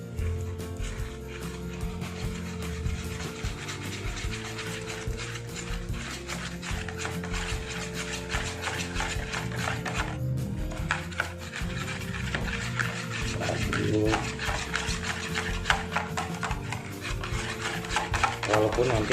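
A whisk or spoon stirs egg custard cream mixture with vanilla and rum in a pot, a steady close metallic scraping and clinking that goes on without a break, with a dog barking faintly now and then.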